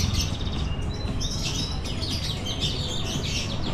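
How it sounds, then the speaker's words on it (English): A small bird sings and chirps along a shopping street in Kuta, Bali, giving bright, rapid repeated tweets over a steady low street hum, fairly close and clear with no talking. "a nice singing, chirping bird"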